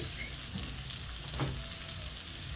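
Ricado aromatics such as shallot frying in oil in a pan, a soft continuous sizzle with a faint clink or two of utensils, quiet and close, no speech.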